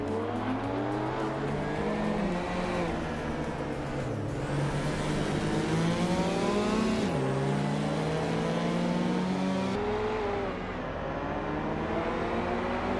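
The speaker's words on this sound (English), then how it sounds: "Nuts is driving a 1978 Saab 99 Turbo, which is quite the underdog here" A 1978 Saab 99 Turbo races with other cars, its turbocharged engine droning and rising through gears at close range, with tire squeal and shifting pitch as the pack runs continuously.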